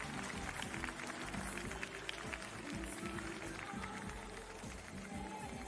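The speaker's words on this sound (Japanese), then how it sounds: "改めまして入賞しました皆様の方に大きな拍手をお願いいたします。" Crowd applause at the prize ceremony of the 36th Lead Japan Cup 2023 climbing competition, a dense, steady wash of clapping that holds at an even level throughout without pause.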